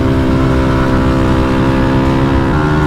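An A1-category motorcycle engine runs loud and steady nearby, a throaty continuous drone with a slight shift in pitch near the end.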